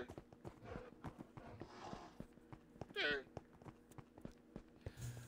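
Horses walking in Minecraft: soft, irregular hoof clip-clops repeating at a low level, with a brief louder burst midway and quiet background sounds around them.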